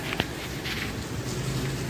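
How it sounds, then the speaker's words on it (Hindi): Steady rain patter on an outdoor surface, a continuous soft hiss with a few brief tapping drops, fairly close and moderate in level, with no talking. "देखिए यहाँ पे बारिश हो रही है।"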